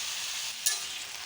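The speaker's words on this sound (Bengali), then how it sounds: "কুটে রাখা আলুটা আমি ভেজে নেব।" Chopped potatoes fry in a pan for Bengali masoor dal khichuri, giving a steady, close hiss of sizzling oil with one brief brighter crackle near the middle and no voices.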